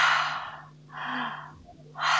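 Deep breathing in and out during a counted breathing exercise: close, airy inhales and exhales in a slow rhythm, two long breaths with a soft pause between.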